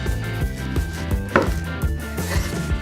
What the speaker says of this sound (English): So we're gonna chop thin, and that's it.